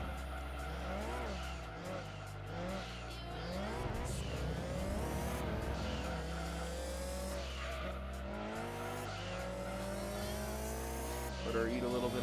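Race car from Gran Turismo 2 screaming at high speed, engine pitch rising and falling through gear changes with tire squeal, loud and continuous under a commentator's voice.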